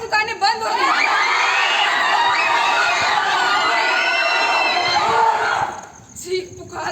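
Dense, continuous crowd noise of many voices screaming and shouting during a city riot, staged as a theater effect; loud and sustained for several seconds before fading and dropping away near the end.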